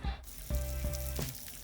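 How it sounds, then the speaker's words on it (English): Sliced turkey tails hit hot olive oil in a skillet, giving a steady close sizzle and crackle with a few soft bumps as pieces settle in the pan. "I place my sliced turkey tails in the skillet and start frying them"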